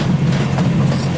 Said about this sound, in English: We have a 3-cylinder diesel engine inside of this train, and we run on a narrow gauge track